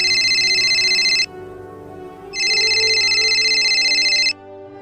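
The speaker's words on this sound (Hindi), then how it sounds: "फोन की घंटी बज उठी" A telephone rings in a home in two loud electronic bursts with a pause between, the tone steady and close, with a faint low hum beneath and no voices.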